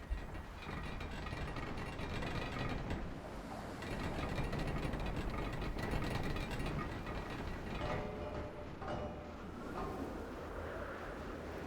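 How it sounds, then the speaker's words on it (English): A built aircraft engine in the Scrap Mechanic game runs as a steady, dense mechanical whir with ratcheting, gear-like texture, holding at an even level throughout. "Okay, engine on,"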